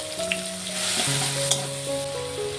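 Dried red chillies, bay leaves, chopped tomato and garlic paste fry in oil with nigella seeds in a pan, a short, close sizzle with a couple of light clicks from stirring and no speech.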